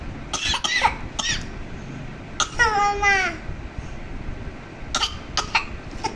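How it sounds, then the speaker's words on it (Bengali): A young child at home during study time coughs in several sharp bursts, then gives a longer strained, voiced cough, with quiet chatter in the background. "কাশি হয়েছে"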